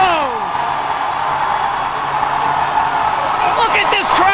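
A packed high school hockey arena crowd roars and cheers after a game-winning goal on senior night, a loud, dense, sustained wall of voices with whoops rising near the end.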